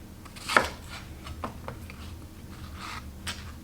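A knife chops vegetables on a cutting board for a caldo de albondigas, with a few quiet, spaced-out thunks and light scrapes.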